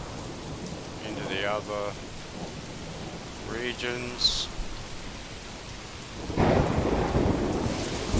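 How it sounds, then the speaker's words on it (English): Rain patters steadily throughout a thunderstorm in the video game Manor Lords, with a deep roll of thunder swelling near the end. Someone talks over the weather. "Thunder, lightning, all going off at the moment."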